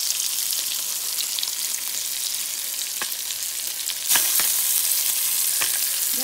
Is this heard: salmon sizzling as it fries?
yes